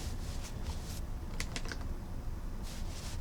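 Computer keyboard keys tapped while typing an email in Microsoft Outlook: a few scattered keystrokes, a brief flurry of sharper clicks in the middle and another burst at the end, over a steady room hiss with nobody speaking.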